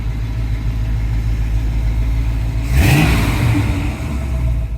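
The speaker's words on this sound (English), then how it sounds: "that kind of loud noise when you mash the throttle" A Chevrolet El Camino SS with a big American exhaust idles with a low rumble, then the throttle is mashed and the engine revs sharply, with a loud surge of roar before settling back to a steady idle.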